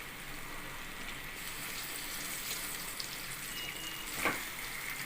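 Tomato pieces frying with masala in a pan for paneer curry give a steady, close sizzle and crackle throughout, with a brief louder splutter near the end and no talking.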